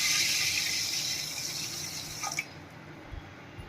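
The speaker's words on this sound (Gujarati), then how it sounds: "બે ગ્લાસ જેટલું આપણે એમાં પાણી નાખશું" A steady stream of water pours into a metal pressure cooker, fading out toward the end, followed by a couple of soft clanks.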